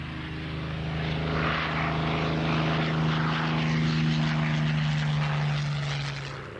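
A Hawker Hurricane WWII fighter drones past, its piston engine giving a steady low propeller hum that swells and fades slightly as it passes.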